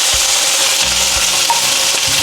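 Shrimp and crab sauté in a pan, giving a loud, dense, continuous sizzle with occasional faint clinks of stirring.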